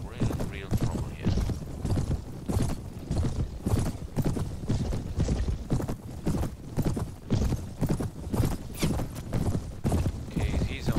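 Horse hooves galloping in the video game Mount & Blade, a fast, steady clip-clop rhythm close by and continuous throughout, with occasional faint neighs.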